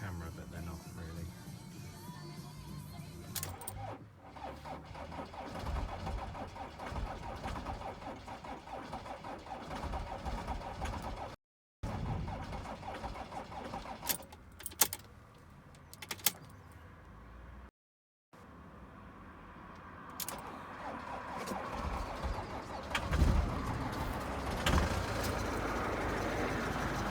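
A 2007 Citroen Relay diesel van with a failing starter motor tries to start, the engine cranking and catching unevenly under a voice, with brief gaps and bursts of mechanical noise.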